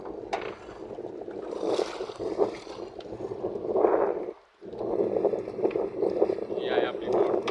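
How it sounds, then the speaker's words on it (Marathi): A boat on water at a dam reservoir, with steady wind rumble and water motion throughout, a brief dip near the middle, and people talking over it. "ही आहे आपली बोट. या बोटीतून आपण जाणार."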